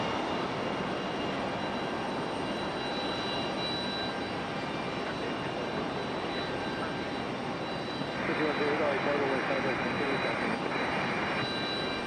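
A Boeing 757 jet airliner at Raleigh-Durham International Airport, its engines producing a steady, broad jet roar that swells a little louder toward the end, heard from a spotting position.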